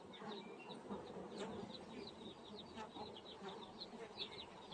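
Carniolan honey bees from a colony inclined to swarm buzz faintly at an open hive, a low, steady drone with scattered bird chirps over it.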